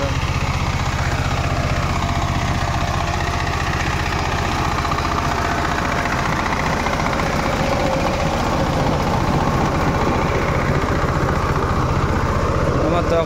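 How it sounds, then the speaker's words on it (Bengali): A Sigma Plus 20 horsepower power tiller ploughs a field, its engine running loud and close in a steady, unbroken chugging drone from start to finish. "sigma plus power tiller 20 horse পাওয়ারের গাড়ি"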